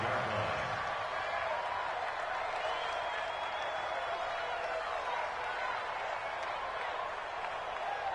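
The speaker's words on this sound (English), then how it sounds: "That's why you hear that clapping on the sidelines, right?" Sideline crowd clapping in an American football video game on PS4 forms a steady wash of applause and crowd noise that holds at an even level throughout.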